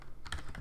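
Brief burst of keystrokes on a computer keyboard while entering an AI prompt in Notion, several quick clicks in a close, short run with no voices.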